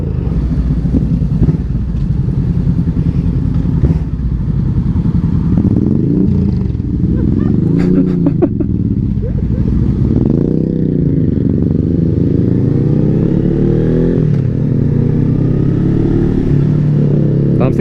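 A motorcycle engine runs steadily and loud after being push-started, with a continuous low rumbling drone and slight pitch rises, close by, with faint voices underneath.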